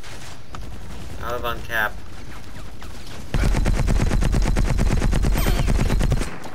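Sustained rapid automatic gunfire from the video game Battlefield Heroes, loud and continuous for several seconds after a stretch of quieter game sound with a brief spoken remark.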